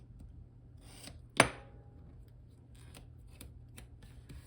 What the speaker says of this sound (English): let's cut this